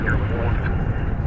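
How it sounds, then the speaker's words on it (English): A UPS MD-11 cargo jet coming in to land on the east side of DFW Airport, heard as a loud, continuous, broadband engine roar with no break. "there is the UPS MD-11 coming in on the east side of the airport"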